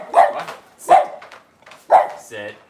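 A Cavalier King Charles spaniel barking indoors in a kitchen, three sharp close barks spaced about a second apart, followed by a brief whine.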